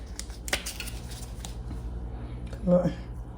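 Seasoning mix of garlic and onion powder stirred in a bowl, brisk scraping and clinking strokes in short bursts, with a voice speaking over part of it.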